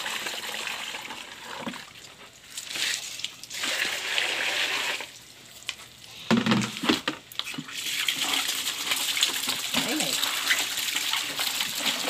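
Hot water is poured out to kill worms, giving an uneven splashing, trickling stream in several bursts with short pauses between them.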